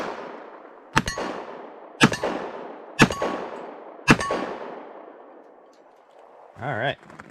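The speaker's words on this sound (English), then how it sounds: "We're going to fire off a couple of rounds of just some ball ammo first." Four loud single pistol shots from a Kimber .45 ACP firing ball ammunition at steel targets outdoors, spaced about a second apart, each a sharp crack with a ringing tail, followed by a short burst of speech.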